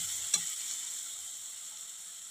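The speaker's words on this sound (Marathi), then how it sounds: "आपल्याला हे वाटण 1 मिनिटभर छान असं परतून घ्यायचं आहे." Green chili and garlic paste sautés in a pan for a village-style ridge gourd bhaji, producing a steady, hissing sizzle throughout, with one brief utensil knock near the start and no talking.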